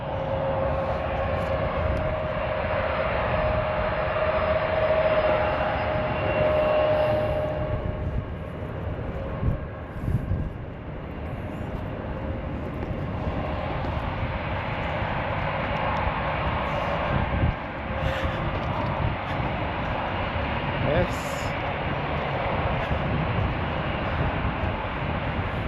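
An airplane lands at a busy airport near the Pentagon in Washington D.C., a long steady jet engine roar heard from a distance under open-air background noise, rising and falling only slightly.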